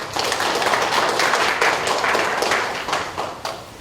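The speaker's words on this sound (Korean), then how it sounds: "가온누리 파트에게 힘찬 박수 부탁드립니다" An audience gives sustained, dense applause at a company quality competition event, loud and continuous before thinning toward the end.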